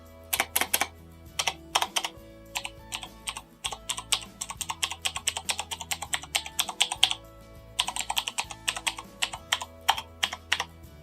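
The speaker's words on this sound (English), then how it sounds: "the Cherry MX Blue switches, they're known for being quite noisy anyway" Rapid, clicky typing on a Thermaltake X1 RGB mechanical keyboard with Cherry MX Blue switches, loud and close, in irregular bursts with brief pauses, no voices.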